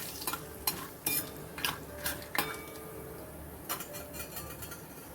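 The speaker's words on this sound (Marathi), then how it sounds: "शेंगदाणे थोडेसे मीठ घालायचं आपल्याला आणि छान असे आपल्याला तळून घ्यायचे आहे शेंगदाणे" Peanuts with a little salt being fried and stirred in a pan, with scattered scraping clinks of a spoon against the metal over a low steady sizzle, strokes coming in uneven bursts.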